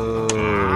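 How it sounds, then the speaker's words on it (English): A cow moos in the VRChat video game, one brief steady sustained tone with a faint click partway through and no talk over it. "And the cow goes moo."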